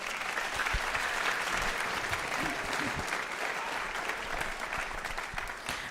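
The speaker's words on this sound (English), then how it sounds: "Could you give them another round of applause?" A school audience at a middle school end-of-year band concert gives the 8th grade percussion section sustained, even clapping that holds steady and fades slightly at the end.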